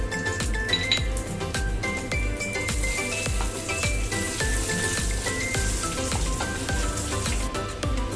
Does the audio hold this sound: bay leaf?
yes